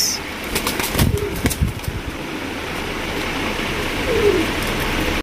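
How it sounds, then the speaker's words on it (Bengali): Red Rajgolla pigeons coo a few times, low and soft, over a steady background hum, with a brief flutter of wings near the start. "এখানে রয়েছে রেড কালারের রাজগোল্লা কবুতর"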